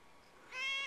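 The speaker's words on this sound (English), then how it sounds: "Just sits there and meows." A cat lets out a single short meow that rises up after a quiet pause, close but soft.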